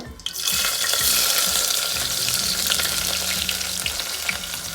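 Small shallots frying in oil with dried red chillies and curry leaves for a rice-and-lentil dish, a loud steady sizzle with occasional stirring scrapes, close up and without talk.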